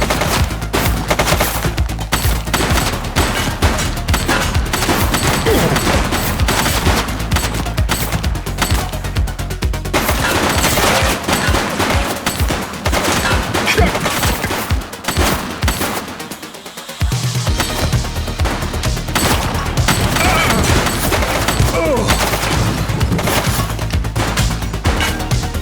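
Dense, continuous automatic gunfire fills a police video game shootout with a fleeing suspect, with rapid overlapping bursts and impacts that barely pause.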